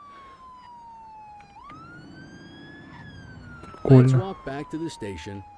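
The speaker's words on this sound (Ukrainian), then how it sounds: "Це поліція їде." Police car siren from The Precinct video game wails steadily for several seconds, a long sliding tone that dips and rises, before a voice starts speaking over it.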